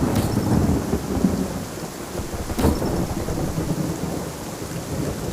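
Undawn game storm scene where rain pours continuously and two sharp thunder cracks strike, one right at the start and another midway, followed by low rumbling under the downpour.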